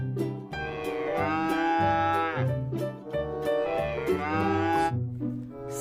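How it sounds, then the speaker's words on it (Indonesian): A toy cow gives two long electronic moos, each rising and holding before fading, set over a bouncy repeating tune, fairly close and clear with no talking. "Ada seekor sapi."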